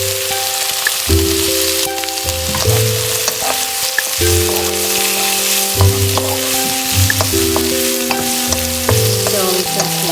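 Tofu frying in a pan with paprika and peppers, a steady loud sizzle throughout, with no talk.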